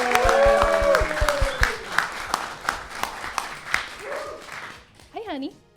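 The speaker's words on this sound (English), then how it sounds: "Give her a round of applause" Applause from a live podcast audience greeting a guest, a moderate spread of clapping heard under overlapping talk and tonal sounds, tapering off with scattered claps toward the end.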